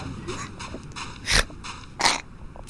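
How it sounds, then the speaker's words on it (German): A person grunts twice, two short, forceful, breathy bursts close to the microphone with quieter vocal noises in between, during a video game session. "Entschuldigung, ich grunze."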